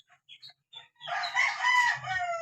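A fighting rooster clucks in a few short notes and then gives a loud, close, drawn-out crow, alone with no talking.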